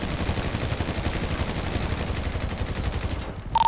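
Sustained automatic gunfire in Grand Theft Auto V roleplay fills the whole stretch, a dense rapid rattle of shots that stays loud and steady before cutting off near the end.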